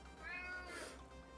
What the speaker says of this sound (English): I also have a demanding cat.